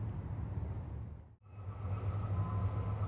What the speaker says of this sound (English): here comes train 1220 with the F40 PH Stats 2 Cat 4120